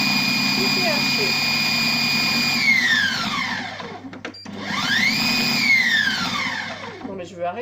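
Compact Cook Pro food processor chopping a carrot, a loud high motor whine that runs, spins down, then revs up again in a second burst before winding down; a voice speaks briefly over it.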